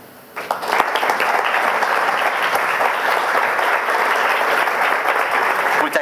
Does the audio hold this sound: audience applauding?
yes